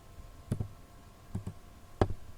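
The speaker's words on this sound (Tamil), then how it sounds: "இப்போ நான் தமிழ் டைப் பண்ணுறேன்." Tamil being typed on a computer keyboard: three soft clusters of double key clicks, close and faint, with quiet pauses between them.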